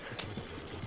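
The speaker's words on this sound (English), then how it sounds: "Oh no, there's horses!" Horses in a video game clip-clop in a quick, faint patter of hooves, a short burst heard alone.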